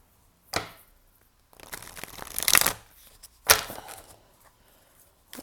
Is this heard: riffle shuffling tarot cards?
yes